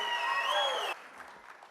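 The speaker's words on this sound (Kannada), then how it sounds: "ತುಂಬ ಚಪ್ಪಾಳೆಗಳ ಮುಖೇನ" Audience applause at a Karnataka Rajyotsava 2023 event as director Ramesh Arvind is welcomed: dense, steady clapping from a crowd for most of a second, then dropping abruptly to a softer scattered patter.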